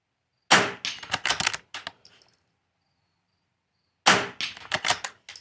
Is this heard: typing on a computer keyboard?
no